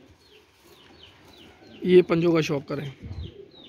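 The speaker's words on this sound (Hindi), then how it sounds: "ये कसूरी कबूतर हैं" Kasuri pigeons coo softly in a home breeder's loft, with low repeated coos at first and then someone speaking Hindi-Urdu close by over them.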